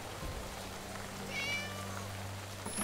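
Cat meowing in the video game Final Cut, a short faint meow over a low steady background hum.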